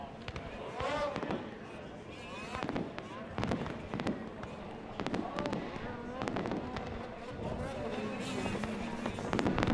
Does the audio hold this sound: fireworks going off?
yes